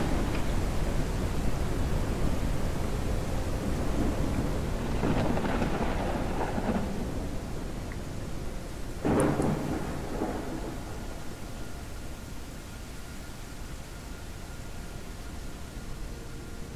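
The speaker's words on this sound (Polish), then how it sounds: "ta burza to mnie stresuje jak nie wiem co" Thunderstorm in the Forever Skies video game: a steady wash of heavy rain with low rumbling thunder swelling around the middle, loud and continuous, no voices.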